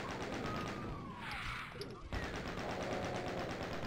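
Rapid bullet weapon fire in Doom II, a sustained stream of evenly spaced shots rattling on throughout, loud and close, with a brief dip midway before the firing resumes.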